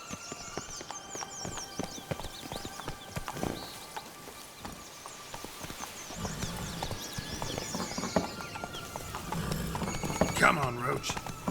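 Geralt's horse Roach in The Witcher 3: Blood and Wine, hooves clip-clopping at a steady trot with a whinny near the end, under a voice and game ambience.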